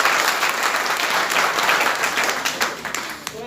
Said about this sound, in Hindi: तो एक बार जोरदार तालियां से